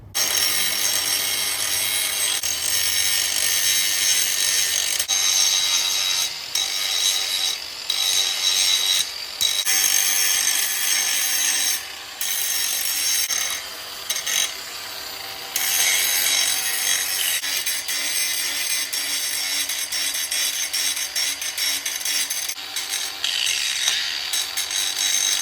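A Sawzall reciprocating saw grinds continuously through a Harley-Davidson Sportster 48 fender strut, a harsh steady rasping close by with brief dips as the blade shifts, and no talking.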